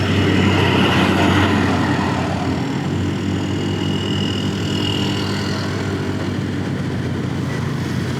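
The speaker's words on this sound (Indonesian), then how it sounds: "Jadinya mobil pribadi pada lewat sini semua, teman-teman, sama truk-truk." Cars and trucks pass on a busy Pantura highway road near Palimanan, Cirebon, at dawn, a steady wash of close engine and tyre noise swelling at the start and then settling into an even rumble, with no talking.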